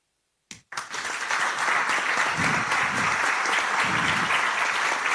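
An audience applauds a speaker and panelists at a CChC Valparaíso and CIT-UAI event; after a brief pause, steady, dense clapping fills the room at an even level.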